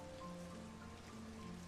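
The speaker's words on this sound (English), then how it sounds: "we stand in silence briefly, as if to listen to the pouring rain" Steady pouring rain as a sound effect in a flash visual novel: a dense, even hiss of falling water, soft and continuous, with no voices.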